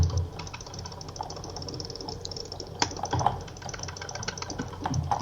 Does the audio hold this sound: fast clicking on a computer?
yes